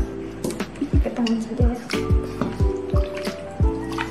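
Water added to a cooking pot of duck being prepared for rendang, heard as close, uneven splashing and dripping pours with repeated liquid plops over a few seconds, no talking.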